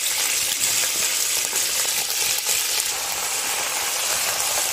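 Chicken pieces fry in hot oil for a recipe of chicken with fava beans and zucchini, giving a loud, steady, dense sizzle that carries on without a break.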